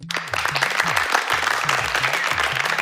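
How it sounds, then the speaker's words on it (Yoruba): Dense, continuous applause from a children's game-show audience cheering the winning team, loud and steady throughout with a low musical tone running underneath. "Ẹ bá ń pàtẹ́wọ́ fún wọn o."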